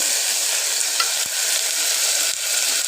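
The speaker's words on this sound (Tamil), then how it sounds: "இப்போ நம்ம கட் பண்ணி வச்சுருந்த கத்திரிக்காய் போட்டுக்கலாம்." Cut brinjal frying in a pan, a steady broadband sizzle that holds throughout with brief clinks and scrapes of stirring, close and fairly loud with no talking.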